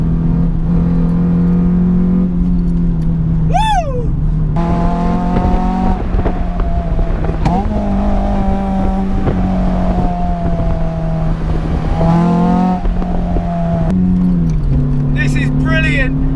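A 2005 Renault Clio 182's small high-revving engine revving hard to about 7,000 rpm and climbing through gears, pitch rising then dropping at each shift, loud and close throughout.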